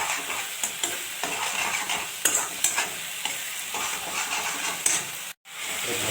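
Ground tomato paste sizzles steadily in a pan for potato dum with peas, with regular scraping and tapping of a ladle as it is stirred. The sound is close and without talk, and it cuts out briefly near the end.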